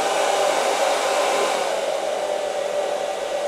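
Electric heater fan running on high heat from an Allpowers portable solar power station, a steady close whirring hum with airy rush, unbroken and alone.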